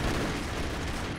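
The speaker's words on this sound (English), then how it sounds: "they're shooting on this side." Enemy gunfire in the side-scrolling action game Broforce, a brief dense burst of rapid shots blurring into a continuous rattle, loud and close with no talk over it.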